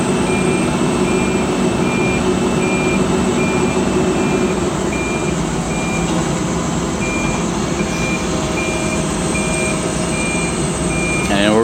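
A heavy machine on an excavation site reverses with regular, evenly spaced backup beeps over a constant diesel engine rumble, the beeping steady and clearly audible throughout.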